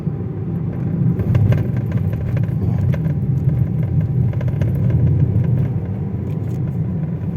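A Toyota Vios XLE 2025 with CVT accelerating up a shaded mountain road, a steady low engine drone and road rumble holding strong throughout from inside the cabin.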